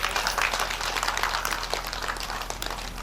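A seated crowd at a Shrimad Bhagwat Katha religious gathering claps together in a dense, steady burst of applause that stays fairly loud and even for the whole stretch, with no voices over it.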